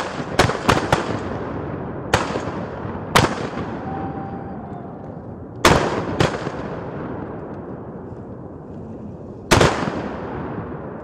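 Shotgun blasts fired at ducks during a hunt, a sharp loud shot followed by a quick double and several more spaced single reports, each trailing off into open-air echo.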